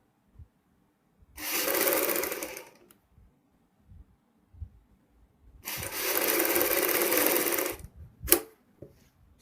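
A sewing machine stitches a doubled V-neck strip on fabric in two fast whirring runs, each about two seconds long, separated by quiet pauses with faint handling clicks.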